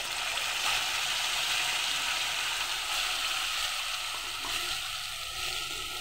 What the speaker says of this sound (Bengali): আমি এখানে সেই গোলানো মশলাটা এখন ঢেলে দেব।